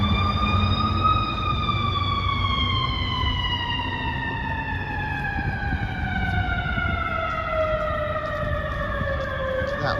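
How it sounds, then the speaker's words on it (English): A fire truck siren wails loudly and steadily in downtown Chicago, its long tone slowly sliding downward in pitch over traffic rumble, as if passing nearby. "And pardon our sirens."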